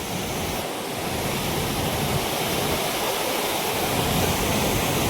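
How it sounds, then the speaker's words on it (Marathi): A loud, steady roar of water rushing down through the spillway of Bhandardara dam, a constant broadband torrent with no pauses, close by. "पाण्याचा प्रवाह इकडून दिसतोय"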